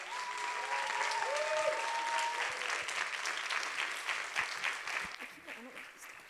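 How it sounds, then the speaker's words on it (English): A conference audience applauds a speaker at a youth speech event, with dense sustained clapping and some brief vocal sounds early on, thinning slightly toward the end. "Huge round of applause for Echo."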